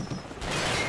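A rifle magazine changed in Call of Duty 4: a short run of clicking, ratcheting mechanical handling noises, close and fairly loud, over a busy game background with no one talking.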